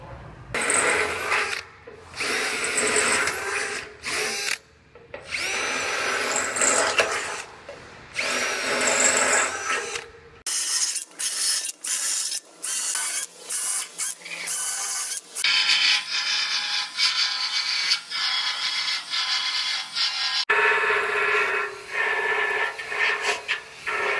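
A power tool grinds and scrubs car body metal down to bare steel on a frame rail, loud harsh bursts that start and stop repeatedly with short pauses, close up and without speech.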